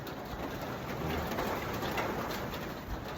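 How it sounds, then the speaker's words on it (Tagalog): Rain falls steadily during a typhoon, a dense, even hiss of drops that holds constant throughout with no voices. "Yan ang rain effect kapatulog."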